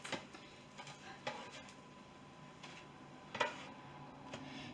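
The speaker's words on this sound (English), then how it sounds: "then I'll mix up my batter again because the cinnamon does tend to rise to the top in the batter" Cinnamon pancake batter is stirred in a bowl, giving soft, irregular scraping and tapping strokes, quiet and close, with a few sharper clinks of utensil against the bowl.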